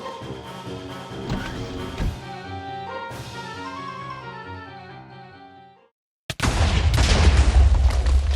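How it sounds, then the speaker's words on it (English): Music plays in Minecraft, cuts to a brief silence, then a sudden loud explosive blast erupts into sustained roaring, rumbling noise. "Did you hear the explosion just now?"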